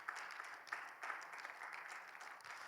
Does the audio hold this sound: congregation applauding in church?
yes